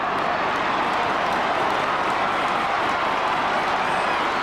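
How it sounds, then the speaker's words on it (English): A dense, continuous crowd roar fills a stadium during an Australian football match between Adelaide and Carlton, loud and steady throughout with no break. "Crowd roaring at Amy Stadium."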